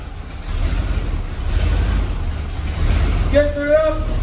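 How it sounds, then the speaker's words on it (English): A Corvette engine with a Turbo 400 automatic transmission idles and rumbles steadily during a transmission fluid change, loud and close, with a voice briefly speaking over it near the end. "Start the engine."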